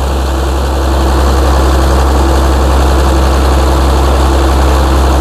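Hino J07C six-cylinder diesel engine driving a large-bore water pump for drainage, a loud, steady low rumbling drone with constant vibration, running alone without talk.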